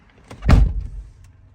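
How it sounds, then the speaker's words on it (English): A car door is slammed hard once on a rainy day: a single sharp, close thud that fades quickly into quiet. "I'm gonna slam the door a little hard so you guys can see how the G sensor works, the parking mode"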